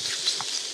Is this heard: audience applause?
no